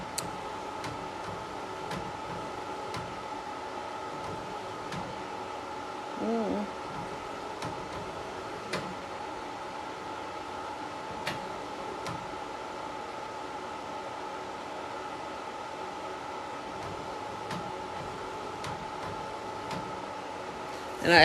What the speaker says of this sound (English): I actually just put some new settings on this printer. And so it takes a little bit longer to print it